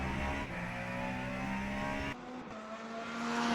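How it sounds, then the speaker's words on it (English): Race car engine in Le Mans Ultimate at Bahrain, a loud sustained high-revving drone that drops in pitch partway through as the car shifts or lifts, then builds again. "This car sounds nice"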